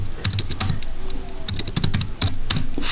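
Fast, crisp clicks of a computer keyboard as someone types HTML code, bursts of keystrokes close to the microphone with short pauses between words.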